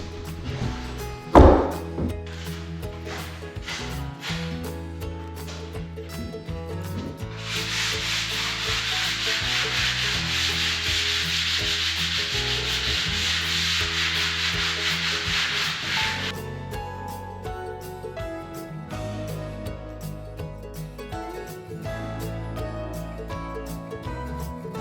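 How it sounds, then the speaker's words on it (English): Wood being sanded by hand before painting, with rhythmic rubbing strokes, a sharp knock near the start, and a long continuous stretch of harsh scraping in the middle, close and clear. "so we just finished with the rubbing down. Now it's nice and smooth."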